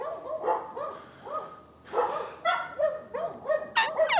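Dogs bark in short, loud bursts mixed with yips and whimpers, several barks spaced irregularly and close by, with no talking over them.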